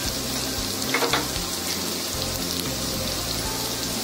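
Pieces of jackfruit fry in a hot pan with turmeric and red chili powder, giving a steady, dense sizzle and crackle like rain on a surface, close and even throughout with no talking.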